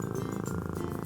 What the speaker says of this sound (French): Elle ronronne, ce qui signifie qu'elle doit être heureuse.